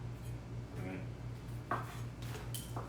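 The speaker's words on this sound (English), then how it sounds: "We're almost done chopping the tuna." Knife chopping raw tuna on a board in a home kitchen, a series of quiet, irregular taps and clicks with a soft background hum and a faint voice.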